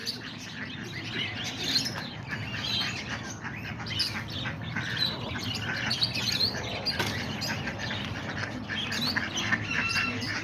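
Pigeons in a loft, newly paired birds including a blue bar female, calling in soft repeated coos and chirps over a steady background of rustling and low hum, with birds audible throughout at moderate distance.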